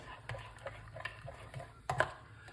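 A spoon stirring a pineapple and ginger smoothie mixture in a container, soft scraping strokes in an uneven rhythm with a few sharper clinks near the end, faint and close.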